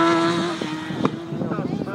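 An Aprilia RSV4 superbike races up a hill climb road course in France, its engine note rising in pitch as it passes close by, while a public-address announcer talks over it and a buzzing crowd fills the background.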